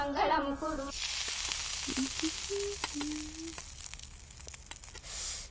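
Hot oil sizzles steadily as puris fry in a home kitchen, a continuous crackling hiss with scattered sharp pops, close and fairly loud, while voices talk over it briefly at the start and intermittently.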